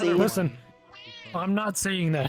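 A person imitates a cat's meow, producing drawn-out, pitch-bending mews in a couple of bursts, close and loud, mixed in among casual speech.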